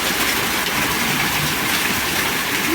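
Hail falls during a storm, a dense, steady hiss of pelting ice that continues unbroken throughout at close range, with no voices.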